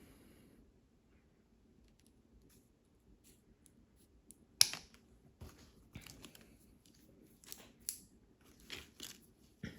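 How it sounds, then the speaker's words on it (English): Quiet, crisp snips from scissors cutting both sides of plastic nail tips on a practice hand, a handful of sharp clicks spaced irregularly against a near-silent background. "I'm just going to use some scissors and I'm going to cut both sides."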